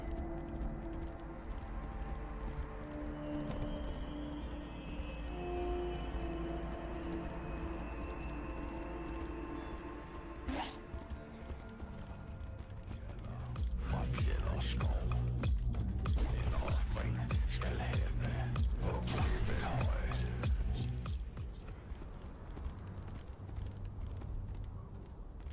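Horse hoofbeats from riding in the Tainted Grail video game, a steady clip-clop running under constant game music and ambience, with the mix turning busier and louder partway through.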